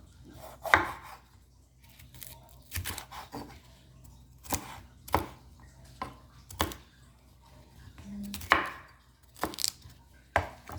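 Vegetables for chicken vegetable soup being chopped with a knife on a cutting board, giving about a dozen sharp, close knocks in an uneven rhythm with quiet pauses between them.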